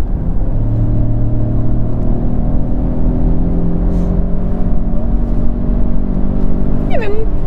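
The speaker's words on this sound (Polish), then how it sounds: "Uwaga, naciskam gaz." A Citroen C4 in normal mode accelerates hard with a kickdown from a steady 90 km/h, its engine roar rising over constant road rumble, loud and close throughout.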